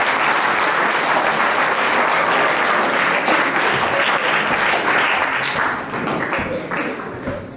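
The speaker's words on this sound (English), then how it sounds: "So please give them a round of applause." Sustained, dense applause from a school audience at a senior debate competition in a college hall, loud and steady throughout before thinning slightly near the end.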